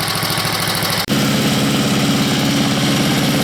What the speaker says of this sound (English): But I got myself a good motor and a good blower